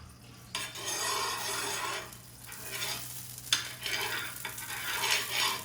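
Steady crackling sizzle of ghee on a hot griddle, with scraping and stirring sounds and a low electrical hum underneath, no voices.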